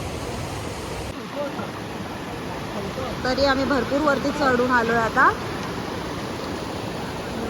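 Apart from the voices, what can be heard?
Kalu waterfall flowing water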